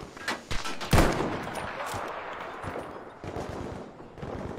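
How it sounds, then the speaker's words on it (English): Gunfire in the first-person shooter Battlefield V: several sharp shots with one loud close report near the start, then a steady rattle of more distant firing under a noisy battlefield din. "where's this guy shooting from?"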